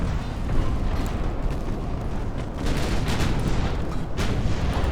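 Naval gunfire from warships in the game Ultimate Admiral Dreadnoughts during an invasion of Venice: a continuous dense rumble of distant cannon booms, with several sharper, louder blasts standing out, no talk.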